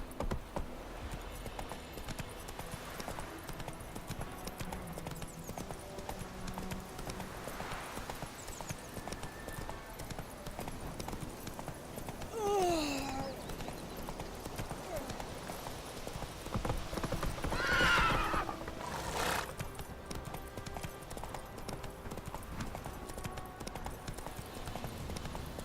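Roach, a horse in The Witcher 3: Wild Hunt on Xbox One, trots with steady rhythmic clip-clop hoofbeats over a continuous game soundscape, with a brief whinny partway through and no speech.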